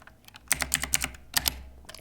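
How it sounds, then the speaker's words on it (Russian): A computer keyboard is typed on close by: a quick run of crisp key clicks enters a password, then a short pause, then a few more taps and a final keypress. "Нажимаю Enter, ввожу пароль"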